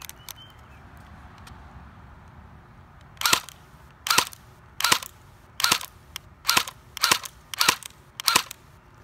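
Seven sharp shots ring out from an HK MP7 airsoft gun, firing at small targets after a hop-up adjustment. The pops come singly at an uneven, roughly one-per-second pace, loud and close after a few quiet seconds, with no talking.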